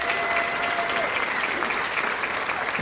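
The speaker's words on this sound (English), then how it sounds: "nice round of applause for what he does" A roast audience gives a warm round of applause, dense and even throughout, with a faint voice near the beginning.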